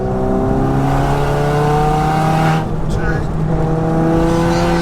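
A 601bhp Cupra R converted to four-wheel drive drones loudly and steadily along a twisty road, its engine note rising in harmonic layers with a brief dip near the middle, while people talk inside the car.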